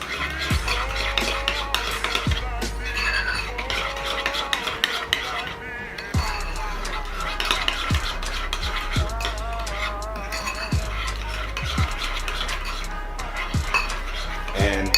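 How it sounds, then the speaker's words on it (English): Meatloaf mixture with Worcestershire sauce being stirred in a bowl, a continuous wet mixing sound with repeated clinks and knocks of a utensil against the dish, close and steady without talking. "we're going to stir all of this good stuff up"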